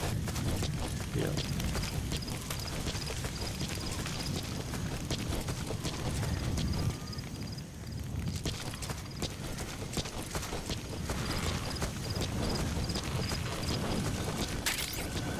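Horse hooves clip-clop steadily at a brisk gait in Metal Gear Solid 5, a continuous rhythmic trotting beat over game ambience and wind-like noise.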